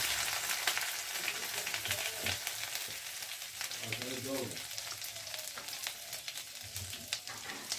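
Grated ginger going into hot oil with cumin seeds, the oil a little generous for an egg curry, fizzing in a steady close sizzle with light stirring clatter and no voices.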